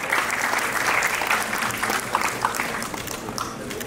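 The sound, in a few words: audience applause welcoming a speaker on stage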